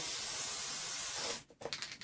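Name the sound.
spray adhesive being sprayed onto paper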